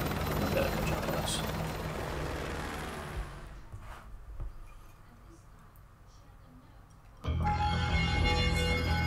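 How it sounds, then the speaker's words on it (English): Helicopter in the Call of Duty Modern Warfare 2 video game, a loud whirring rotor drone that fades over several seconds before a sharp, louder burst of game sound cuts in; game voices may be present. "I'll brief you on the chopper."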